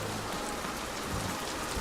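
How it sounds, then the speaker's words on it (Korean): Rain suddenly pours down, a dense, steady hiss of drops drumming on surfaces, close and loud, with no pauses. "왜 갑자기 비가 오는 거야?"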